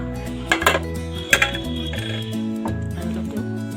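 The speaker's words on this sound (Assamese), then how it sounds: "অলপ পানী দিলোঁ এতিয়া ঢাকি দিওঁ" A metal pot clatters and clinks as its lid is set on while chicken cooks, two sharp clangs standing out over steady background music.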